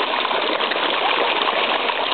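Koi fish splashing water during a feeding frenzy at a pond, a steady, loud, close rushing of churned water that holds evenly throughout the short stretch.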